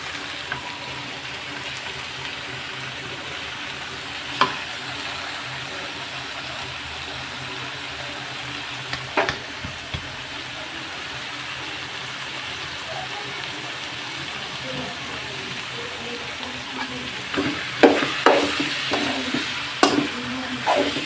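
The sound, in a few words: stirring boiled banana flower in a pan with prawns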